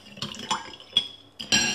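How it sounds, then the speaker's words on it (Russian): A few light clinks of a spoon against glass, stirring sugar into water, with soft liquid swirling between taps, close and fairly quiet. "Хорошенько вот так перемешиваю водичку с сахаром."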